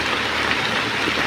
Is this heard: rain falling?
yes